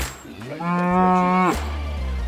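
Cattle on an Oregon ranch give a single loud, close moo lasting about a second, with low rumbling background before and after.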